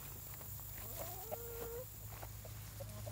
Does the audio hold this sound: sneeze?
no